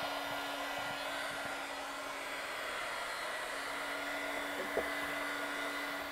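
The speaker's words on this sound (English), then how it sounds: "Now we're going to use the heat gun to fix the kinks in the gasket." A heat gun runs steadily on a Whirlpool refrigerator door gasket to work out the kinks. The blower makes an even, continuous hum with a faint tonal whine, close by and with no talking.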